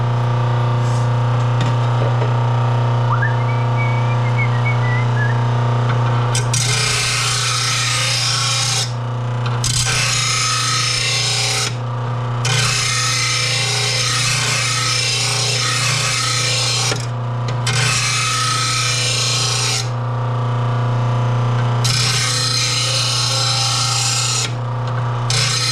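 Honda push mower blade being ground on a powered blade sharpener: a loud, continuous rasping grind with a steady motor hum, broken by several short pauses as the blade is lifted away and pressed back on.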